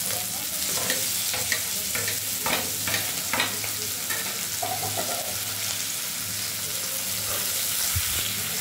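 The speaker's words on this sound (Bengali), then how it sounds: "এরপরে মা দিয়ে দিচ্ছে কুচনো পেঁয়াজ।" Chopped onions hit tempered oil in a pan for onion masoor dal, giving a continuous close sizzle broken by a few sharp crackles and spatula stirs, with no speech.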